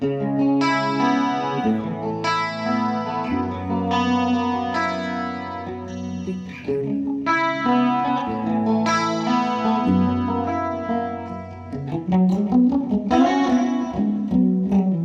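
Electric guitar played through a digital delay patch, notes ringing out with trailing repeats that smear into an ambient wash, steady and fairly loud throughout.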